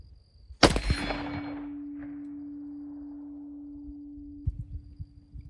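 A single sharp rifle shot cracks out close by during a test of a thermal scope, then leaves a long ringing metallic tone that slowly fades over several seconds before a few faint knocks.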